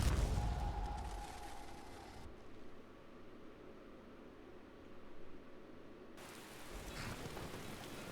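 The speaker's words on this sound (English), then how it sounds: "I see it's still raining here." Steady rain falling in the Skyrim game world, a dense even hiss of droplets that holds constant throughout, with a low rumble and brighter wash at the start and end.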